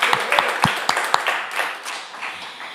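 Scattered claps from a small live-radio audience at a music show, a handful of distinct sharp hand claps at first that blur into thinning, fading applause.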